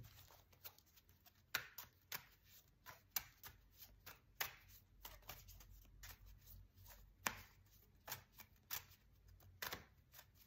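Tarot cards being shuffled by hand, a quiet run of soft irregular riffling clicks and snaps close up against low background hum, with no talking.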